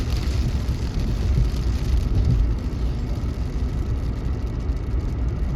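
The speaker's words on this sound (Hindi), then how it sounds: "तेज बारिश आ गई है।" Heavy rain pounds a car driving along a road-trip route from Indore toward Trimbakeshwar near Nashik, making a dense, steady hiss over a low road rumble with no talk.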